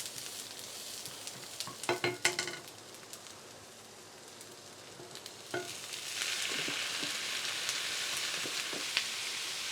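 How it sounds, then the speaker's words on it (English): Sliced onions and cardamom pods sweat in a hot pan, giving a steady soft sizzle broken by a few sharp utensil clinks and scrapes early on, then a fuller, louder hiss of frying toward the end. "All we do now is sweat the onions down a bit, get them slightly translucent, taking on a little bit of colour."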